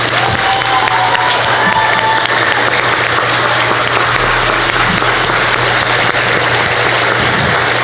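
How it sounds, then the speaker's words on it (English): Sustained audience applause at a 2018 sixth grade graduation ceremony, steady dense clapping from a large crowd of families lasting throughout, with a low hum underneath. "Now I can give them a nice round of applause."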